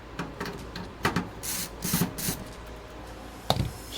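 A gaming PC case for an Aorus build with a Ryzen 9 7950X3D and RTX 4080 being flipped over, heard up close as bursts of rubbing and scraping with a sharp knock near the end.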